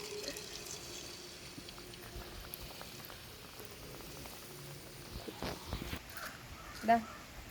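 Cauliflower pieces frying in hot oil in a pan, a steady soft sizzle and crackle close by, with a few louder pops near the end.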